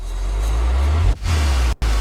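Heavy low booming cinematic impacts roll through in quick succession, layered with a bright reverberant clap, ending in a short dropout before resuming, in a trap music production.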